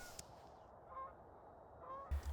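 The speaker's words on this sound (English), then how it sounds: "I've been seeing a lot more geese migrating around" Several geese honk in passing, a few sharp calls spaced across a couple of seconds, fairly distant over a quiet outdoor background with a soft thump near the end.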